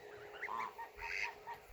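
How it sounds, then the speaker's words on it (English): Young, half-feathered geese on a farm give a few soft, short honks close by, faint against a steady outdoor background. "What good geese."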